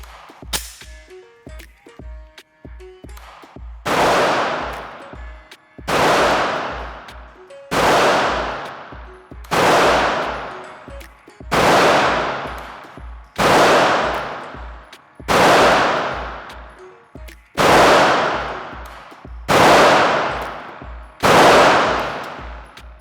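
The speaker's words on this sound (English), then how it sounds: "We're just gonna see how the gun shoots accuracy-wise and feels at about 7 yards." A Walther PDP 9mm pistol is fired at an indoor range from about 7 yards. Eleven loud, sharp shots ring out at a steady pace, each followed by a booming echo in the room, with faint clicks between them.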